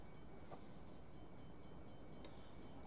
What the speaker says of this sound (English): the back of the train is only just now starting to pass all this mess